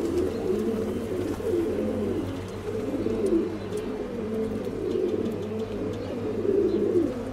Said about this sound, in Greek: Ωραία περιστέρια.